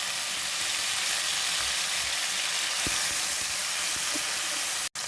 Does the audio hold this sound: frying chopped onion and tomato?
yes